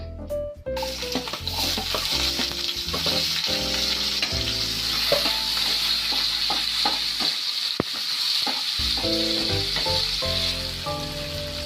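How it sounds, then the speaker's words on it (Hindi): Chopped onions frying in hot oil until light brown for a cabbage-potato curry, a loud, continuous close sizzle with repeated clinks and scrapes of a ladle stirring against the pan. "पियाज को आम लाइट ब्राउन कलर हेबा पर्यंत भाजी नबा"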